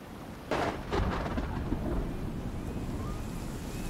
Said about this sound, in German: Allein weil es regnet.